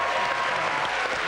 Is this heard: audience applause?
yes